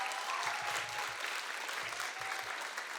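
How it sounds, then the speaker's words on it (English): A crowd at a student leadership conference claps steadily for about three seconds, a broad even patter with a few low thumps mixed in, moderately loud. "y'all can clap that up"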